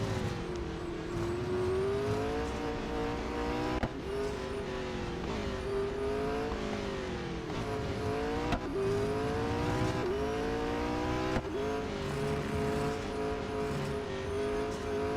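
Race car engine in the Real Racing 3 video game drones steadily with repeated rising and falling revs through gear changes, continuous and moderately loud.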